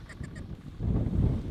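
Wigeon ducks calling outdoors during a snowy duck hunt, a few short whistled calls in quick succession over wind and low rumble.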